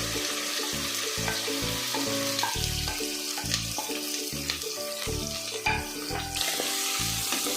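Sliced onions and green chillies sizzle in hot coconut oil for a Kerala-style vegetable kurma, a steady close crackling fry with no talking, while a musical backing plays underneath.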